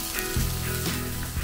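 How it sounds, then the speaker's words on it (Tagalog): An egg frying in a pan gives off a continuous close sizzle and crackle, heard alone with no talking. "Kapag prito na tayo ng itlog."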